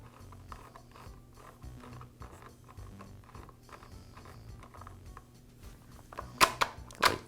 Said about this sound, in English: I need to adjust the tensioner back until it fits into the bar.